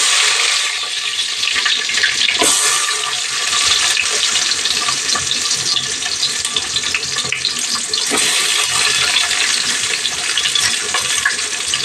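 Sliced onions sizzle in hot oil in a pan, a steady, loud broadband hiss with scattered crackles running unbroken for about twelve seconds and no talking over it.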